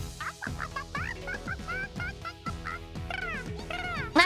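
A human voice imitates a chicken and other birds with a quick series of short, squawky clucks and chirps, repeated in an uneven rhythm and ending on a louder squawk.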